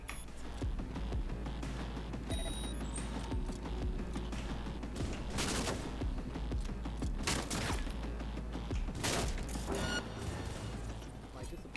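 Gunfire in the video game Cyberpunk 2077: several sharp bursts of shots punch through a dense, steady layer of game noise and clicking mechanisms, with no clear talk.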